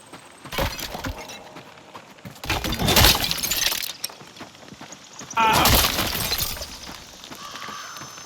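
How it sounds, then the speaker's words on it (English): Objects smash and shatter in the video game Lego Horizon Adventures, with three loud, glassy crash bursts spread across the stretch and quieter clatter and game ambience between them. "How great is smashing stuff?"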